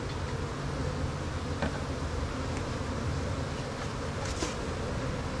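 Honey bees buzz steadily around a hive, a dense continuous drone that stays loud and even throughout, with no voices.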